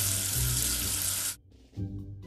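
Water from a video game sink rinses soap off a letter, a loud steady tap-like gush that cuts off abruptly, pauses briefly and resumes more softly.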